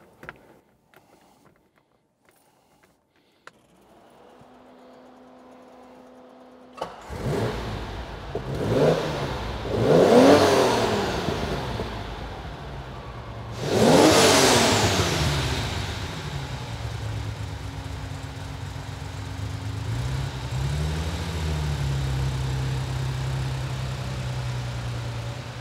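Classic Italian V12 engine, Ferrari Daytona or Lamborghini 350GT, cranks and catches after a quiet stretch, then blips through several loud revs before settling into a steady rumbling idle, close by with no talk.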